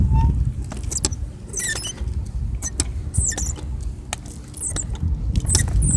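An old car is ridden along outdoors. Its rolling is marked by close rattles, clicks and high squeaks over a low rumbling background.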